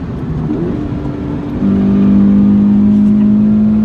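A 2016 Scion FR-S engine pulls hard at full throttle: a moderate drone swells suddenly into a louder, rising, sustained engine note that holds strong to the end.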